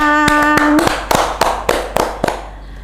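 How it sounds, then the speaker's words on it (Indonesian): Sharp hand claps ring out one after another at a steady pace, about eight or nine in all, after a brief sustained tone fades. "Tepuk tangan."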